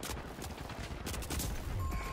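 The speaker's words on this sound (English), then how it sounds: "That's a shotgun." A shotgun fires in a game of The Finals amid a busy firefight, with sharp blasts and rapid gunfire crackling loudly over chaotic background noise.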